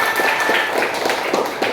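Classroom clapping for two students during a computational thinking lesson, a dense patter of many hands, moderately loud and fairly steady for under two seconds, with faint voices mixed in.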